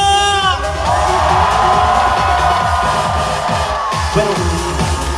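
Concert crowd at an outdoor trot music concert in Gyeongbuk roars and cheers loudly and continuously, with whoops and yells layered over music, sustained for several seconds.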